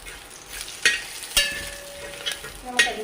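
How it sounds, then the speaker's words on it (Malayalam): Meat pickle with chopped green chillies fries in hot oil while being stirred, a soft steady sizzle broken by a few sharp scraping clinks of the spoon against the pan. "ഒന്നുകൂടെ അത് മൂപ്പിച്ചെടുക്കാം"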